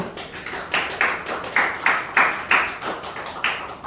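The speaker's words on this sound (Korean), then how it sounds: "우리 큰 박수로 모시도록 하겠습니다." An event audience applauds to welcome a speaker, sparse claps landing in a loose, uneven rhythm, about a dozen distinct hits over a few seconds.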